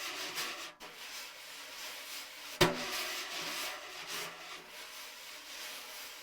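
Wire drum brushes sweeping across a drumhead, giving a soft, continuous brushing hiss with a gentle rhythmic rise and fall and one sharper accent partway through, close and fairly quiet.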